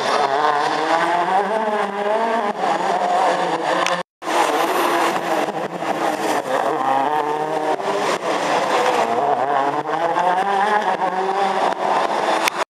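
A Ford Fiesta RS rally car races with a loud, high-revving engine that rises and falls through rapid gear changes, staying prominent and close for most of the stretch, with a brief cut midway.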